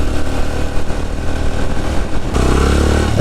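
Motorcycle riding the road from Islamabad toward Murree, its engine droning steadily and loud with wind rumble, then the tone shifts to a smoother, heavier hum partway through, with no talking.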